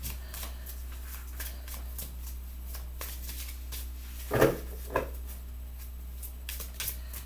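Tarot cards being shuffled by hand close by, a steady soft riffling with a few sharper slaps and flicks near the middle, over a low constant hum and no talking.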